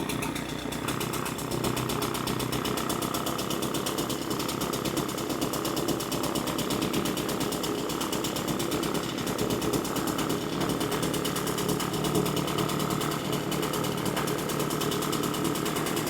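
The gas engine of a Husqvarna 350BT backpack blower idles steadily and continuously nearby, a constant buzzing drone with a slight rattle that holds an even level throughout, with no talking.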